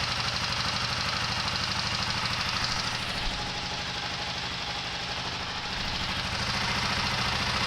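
A Gen 3 Kawasaki KLR650 motorcycle engine idles steadily nearby after an oil change, a low rhythmic chugging rumble that holds an even pace throughout with no revving.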